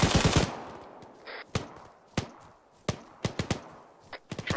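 Machine gun fire in Arma 3 during a modded training operation, a dense opening burst followed by scattered sharp single shots and short volleys, loud and nearby, with no voices.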